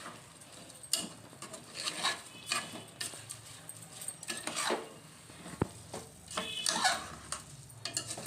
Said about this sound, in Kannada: ಈಗ ಎಲ್ಲ ಬೆರೆಯುವಂತೆ ಮಿಕ್ಸ್ ಮಾಡೋಣ.